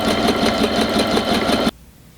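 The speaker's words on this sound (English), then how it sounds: "just sew until you get to the end and do a back stitch there as well" A sewing machine stitching homemade fabric piping runs in a fast, steady whirring rhythm up close, then abruptly stops, leaving near silence.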